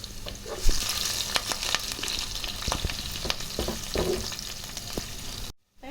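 Onion, chillies and curry leaves sizzle steadily in hot oil for egg semiya upma while a spoon scrapes and stirs the pan with sharp clicks, then the sound cuts to silence.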